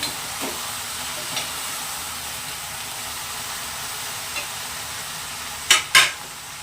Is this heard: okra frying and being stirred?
yes